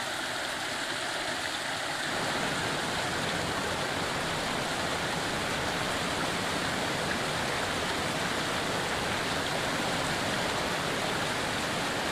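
A swollen mountain stream cascades downhill in a dense, roaring rush of water that swells after a quieter first two seconds into a steady, loud broadband torrent.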